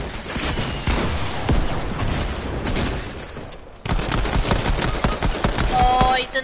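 Rapid bursts of video game gunfire tearing through a wall, loud and dense with sharp repeated shots and impacts throughout, briefly thinning near the middle before resuming.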